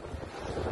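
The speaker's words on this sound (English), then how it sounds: "The sound of the wind is unrelenting. A deep, constant roar, like a freight train passing inches away." Category 5 hurricane wind roaring in St. Elizabeth, Jamaica, a steady, dense blustery rush with low rumble, continuous through the short moment and unaccompanied by voices.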